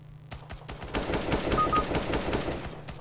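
Rapid bursts of automatic gunfire in CS:GO crackle continuously, loud and close, with sharp repeated shots over a steady background hum.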